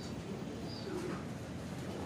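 Soft cooing of a pigeon carries faintly through quiet outdoor ambience. A few low, muffled coos rise briefly, with no talk heard.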